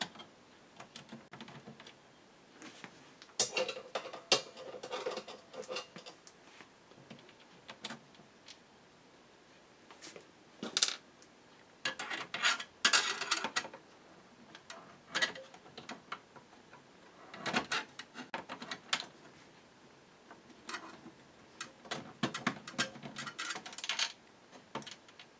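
Screws being taken out of the drive inside a Magnavox DVD VCR combo unit, heard as a long run of small irregular clicks, ticks and metallic taps that come and go in bursts at close range, with no talking.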